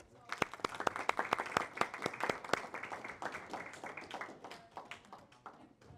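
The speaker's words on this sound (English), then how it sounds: "Everyone, please give a round of applause." A room of people applauds a hackathon team at a live event, loud rapid clapping that peaks early and gradually thins to scattered claps by the close.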